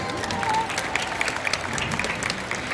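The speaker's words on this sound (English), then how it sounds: "Let's give her a round of applause." A short burst of audience applause, scattered claps building into a crowd clapping at moderate volume.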